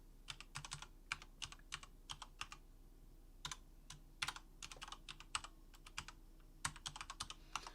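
Someone types an email address on a computer keyboard, a quick run of crisp, close key clicks in bursts with short pauses between.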